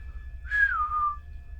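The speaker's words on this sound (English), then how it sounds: "I want to basically whistle the whistle that I do for when we're out hunting" One person whistles a single dog recall call used for hunting retrievers. It is a clear, short tone that holds steady and then slides downward at the end. The whistle is close and stands alone over a faint low background hum.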